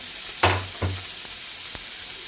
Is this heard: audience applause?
no